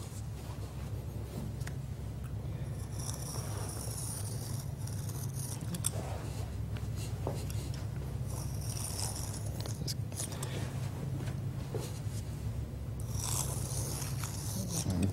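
Scissors snip through a square of Powerbond carpet backing material in steady, close cuts, with light scraping and handling noises between strokes against a low background hum.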